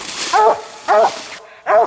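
A redbone coonhound barks three times in separate bursts, loud and close, with brief pauses between each bark outdoors during a deer hunt.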